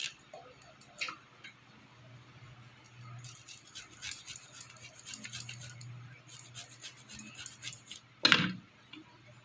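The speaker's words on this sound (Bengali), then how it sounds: "আর আদাটা একটু গ্রেট করে দেবো" Ginger is grated for a soybean curry with soft, quick rasping strokes, faint and close in a quiet kitchen, ending with a sharper knock.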